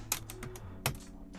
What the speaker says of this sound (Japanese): キーボードぶっ壊れた。